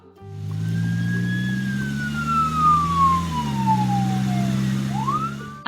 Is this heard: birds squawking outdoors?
no